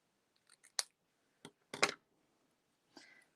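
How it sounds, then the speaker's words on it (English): Scissors snip apart printed paper words for a card: a few small clicks, then several sharp close cuts separated by short silences. "I'm just going to cut in between the words."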